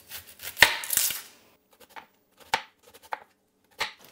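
A freshly sharpened kitchen knife chops vegetables on a board in a home kitchen: a quick burst of strokes, then sparse, crisp single cuts spaced a second or so apart, close and clear with no talking.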